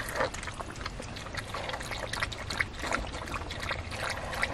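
Water poured out for thirsty dogs to drink on a hot day in San Diego, a steady splashing trickle with a few louder splashes, close by and with no talking.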